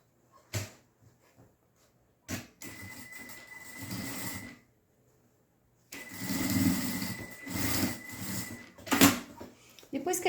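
A sewing machine stitching the lining of a toiletry bag in short bursts of rapid whirring, stopping and starting several times, close and moderately loud, with pauses between runs.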